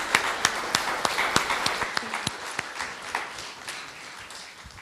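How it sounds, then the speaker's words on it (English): A lecture audience applauds at the close of a university showcase talk: a thin smattering of sharp, separate hand claps, fairly close, that slows and fades over a few seconds with no voices. "please join me in thanking Moira with a round of applause"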